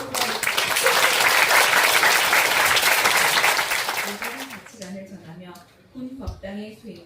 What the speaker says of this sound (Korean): 그리고 박수를 합니다.